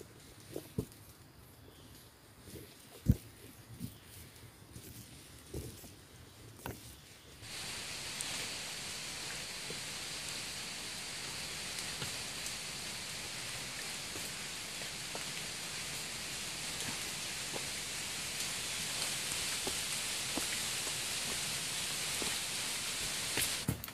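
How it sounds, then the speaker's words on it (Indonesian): Dense drizzle and rain fall on a mountain trail on Mount Salak via the Cimelati route, a soft patter with scattered drops that swells into a steady, close hiss partway through. "Kadang hanya titik-titik kecil, tak jarang pula rintik gerimis padat yang membuat basah"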